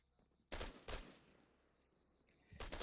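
Gunfire in the military video game Arma 3: two loud, sharp bursts close together, a quiet decaying tail, then another burst at the end. No voices are heard.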